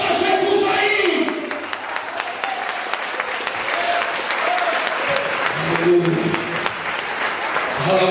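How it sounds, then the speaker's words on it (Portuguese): A congregation at a church service claps steadily and loudly throughout, with voices and cries rising over the applause. "Aplauda Jesus aí"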